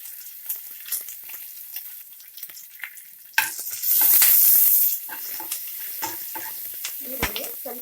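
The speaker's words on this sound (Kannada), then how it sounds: "ಈಗ ಸಣ್ಣಗೆ ಕಟ್ ಮಾಡಿರೋ ಈರುಳ್ಳಿ ಹಾಕ್ತಾ ಇದ್ದೀನಿ." Finely chopped onion drops into hot oil with mustard seeds and curry leaves, and a sudden burst of loud sizzling follows, fading to a softer crackle under stirring and scattered clinks, with someone talking.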